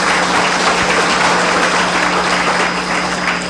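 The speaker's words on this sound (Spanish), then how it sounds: "Demos un aplauso a Diego García" Audience applause at a political forum in Bogotá welcoming a city councillor, a dense steady wash of clapping that stays loud and even throughout with a faint constant hum beneath.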